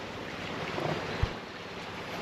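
Waves wash onto the shore at a beach camp on the Pagbilao coast in Quezon, a steady close rush of surf mixed with wind buffeting the microphone and one faint thump.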